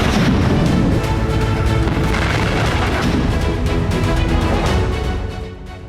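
Continuous loud barrage of artillery fire and explosions in wartime combat around Kherson, dense rumbling booms and sharp bursts overlapping for several seconds before easing off at the end.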